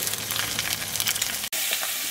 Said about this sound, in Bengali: এখানে গার্ড নিয়ে বসে মাছ ভাজা হচ্ছে